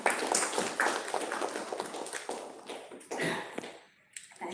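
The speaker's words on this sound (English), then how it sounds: "let's give a big round of applause to all of them" A round of applause from attendees at an AWS cloud content event, brisk scattered clapping that thins and fades toward the end, with a brief lull and some trailing claps.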